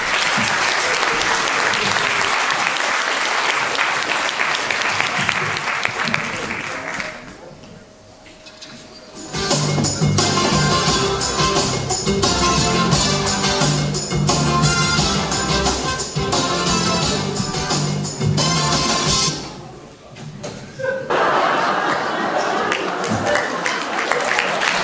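Applause from a cabaret evening audience fills the hall in loud sustained waves, dipping briefly in the middle where a short stretch of music and a voice come through before clapping swells again.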